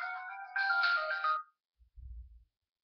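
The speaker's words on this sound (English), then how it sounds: "Phone call." Phone ringtone from an incoming call heard in a kitchen while ramen noodles are being made, a bright electronic melody that plays loudly for about a second and a half and then stops, followed by a low muffled thump.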